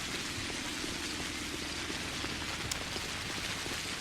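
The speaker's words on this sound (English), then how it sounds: "can you get sick out in the rain in this game?" Steady rain pours down in the video game Pathologic HD, a dense continuous hiss of drops with no pauses, moderately quiet and uniform throughout.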